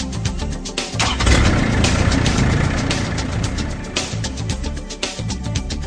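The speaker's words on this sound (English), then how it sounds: "turn the key switch and start the engine" A TCM skid steer loader's engine cranks and catches, then settles into a steady mid-pitched idle with a rapid mechanical pulse, close and fairly loud with no voices.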